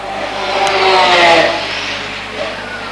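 Race cars in an endurance race sweep past the start-finish line, a mid-pitched engine roar that swells and fades over a few seconds amid commentary talk.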